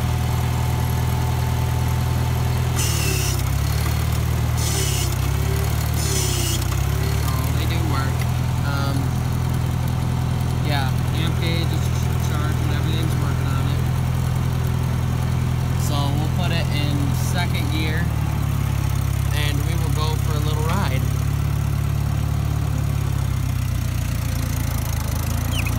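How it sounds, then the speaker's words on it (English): A 1948 Farmall Cub tractor engine idles steadily and loudly for the whole stretch, a constant low rumble with a slight shift in pitch partway through, while someone talks over it at intervals. "So, now that we'll let it run for a minute."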